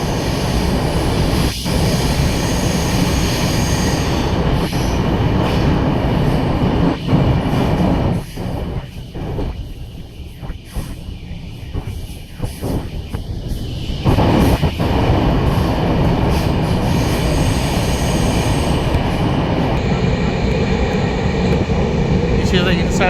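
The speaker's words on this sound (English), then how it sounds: "Now we are traveling through the tunnel." A passenger train runs through a tunnel in the Western Ghats, giving a steady loud rumble and rattle heard from inside the carriage, with a hollow, muffled stretch partway through.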